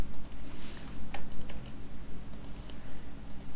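Rapid keystrokes on a computer keyboard while PHP code is typed, close and clear in irregular bursts of clicks over a low steady hum, with no talking.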